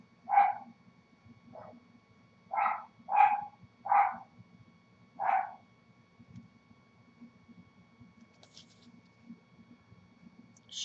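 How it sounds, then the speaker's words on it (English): A pet dog barking at passers-by from indoors, six sharp barks in an irregular series over several seconds, moderately distant, followed by a quiet stretch with faint scratching sounds. "She barks at anybody that walks by."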